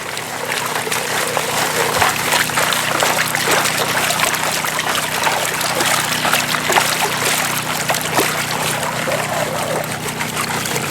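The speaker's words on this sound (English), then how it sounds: "Then you're going to tilt to the front, shake, and then let the water wash it right out" Water washes steadily through a gold-prospecting classifier, a close, continuous rushing trickle with small splashes that hold an even level throughout and have no voices over them.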